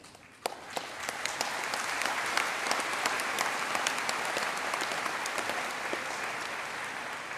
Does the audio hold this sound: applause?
yes